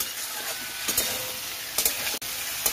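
Yam pieces sauté in a pan for a yam and prawn curry, a loud continuous close sizzle with a few brief scrapes of a spatula and no talking.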